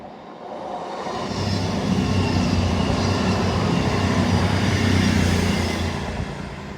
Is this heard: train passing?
yes